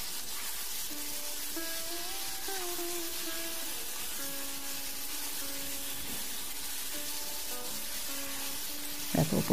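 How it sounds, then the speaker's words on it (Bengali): Green tomato curry sizzles steadily in a pan while being stirred, a continuous close frying hiss with no voices. "দেখো ওপর নিচ করে ভালো করে মিশিয়ে দিচ্ছি"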